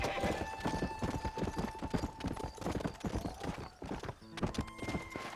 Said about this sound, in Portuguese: é muito esquisito andar de cavalo